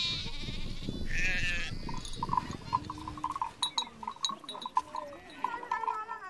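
Red Maasai sheep bleat in a livestock-keeping setting in Africa, with several short wavering calls overlapping each other after a brief burst of broadband noise at the start, heard at a moderate distance.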